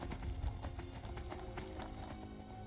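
Horse hooves clip-clop in a rapid galloping rhythm in the Skyrim video game, loud and close, with a faint whinny under the steady beat.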